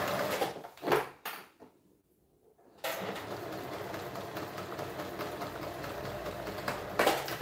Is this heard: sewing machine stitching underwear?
yes